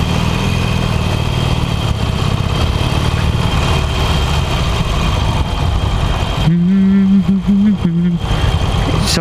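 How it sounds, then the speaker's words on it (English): A Harley-Davidson Iron 883 motorcycle engine runs steadily during a ride, with a loud, constant low rumble that surges into a rising rev near the end, while a rider talks over it. "this is the first ride of the Harley-Davidson Iron 883 that I'm currently on"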